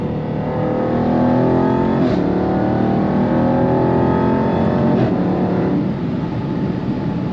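A Jaguar XE SV Project 8 sports sedan accelerates hard with a loud, sustained engine roar whose pitch climbs steadily. The note dips briefly at two gear shifts, with no voices over it.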